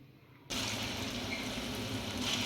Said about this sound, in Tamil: இதில் தேவையான அளவு நம்ம ஃப்ரை பண்ணுறதுக்கு தேவையான அளவு எண்ணெய் சேர்த்துக்கோங்க.